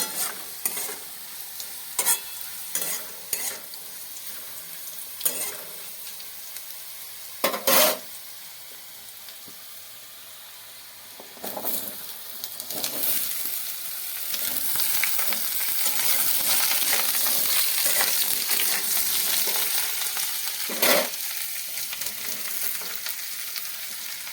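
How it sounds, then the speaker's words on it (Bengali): Potato and eggplant frying in a pan after a spice tempering for a bitter gourd curry, giving a steady close sizzle broken by repeated scraping stirs of a spatula. "ফোড়নটা হয়ে গেলে তারপর আমি আলু বেগুন দিয়ে দেবো।"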